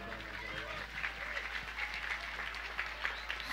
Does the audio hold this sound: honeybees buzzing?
no